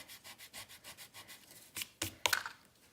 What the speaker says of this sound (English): I'm going to just use my little ink eraser here